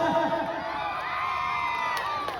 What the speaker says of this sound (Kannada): ಬರ್ಲಿ ಜೋರಾಗಿ ಚಪ್ಪಾಳೆ